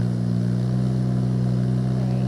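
Ventrac 45RC compact tractor engine held at a high, steady throttle around 2,500 rpm, a loud continuous droning hum with strong low harmonics and no pauses.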